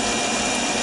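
A metal lathe takes a cutting pass while turning stock down toward 1.5 inches in diameter, a steady, loud, continuous mechanical whir with broadband cutting noise that holds even throughout, with no talking.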